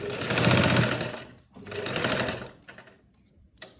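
Sewing machine stitching a sleeve, running in two fast whirring bursts of rapid needle rattling with a short stop between them, then a few isolated clicks, close up.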